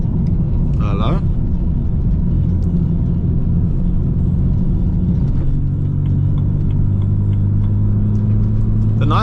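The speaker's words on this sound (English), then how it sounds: "We are currently driving in an 80 km/h speed zone, right?" A six-cylinder car driving at moderate speed on an 80 km/h road, heard from inside as a steady low engine and tyre rumble with a voice briefly audible over it.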